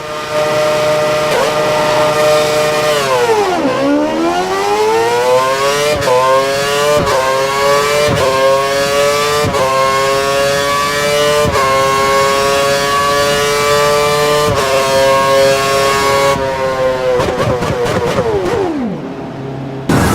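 A Red Bull Formula One car in the racing game F1 2013 screams down the track, its engine note rising repeatedly through the gears with sharp drops at each upshift, loud and continuous throughout.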